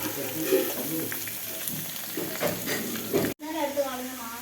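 Sliced onion sautéing in hot oil in a pan, a close steady sizzle with stirring scrapes throughout, briefly cut off near the end before the frying hiss resumes.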